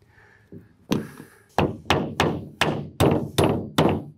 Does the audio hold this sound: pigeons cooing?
no